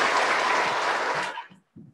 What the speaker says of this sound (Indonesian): Berikan tepukan yang meriah untuk Duta baru kita.